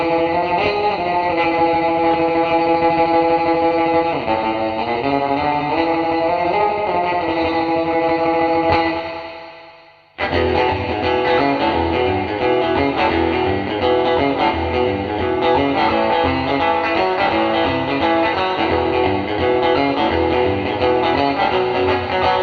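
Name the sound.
TC Electronic Hall of Fame spring reverb on surf guitar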